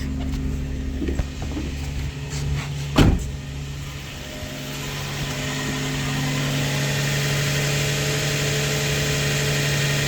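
A Nissan 350Z engine starts up for the first time after an oil cooler install, with a sharp crank burst near the three-second mark and then a steady idle hum close by and without talk.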